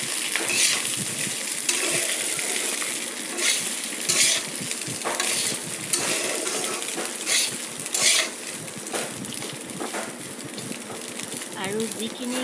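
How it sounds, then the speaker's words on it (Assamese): Fried rice with potatoes and cumin gets stirred in a hot pan: continuous close sizzling with repeated scraping strokes and light metallic taps, and a voice talks over the cooking. "এতিয়া মই ভালকৈ লৰাই লৈছোঁ এবাৰ"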